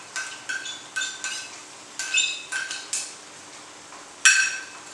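A utensil knocks against an Instant Pot while 100 ml of curd is stirred into Hyderabadi biryani, giving about eight sharp metallic clinks at uneven intervals over a quiet background.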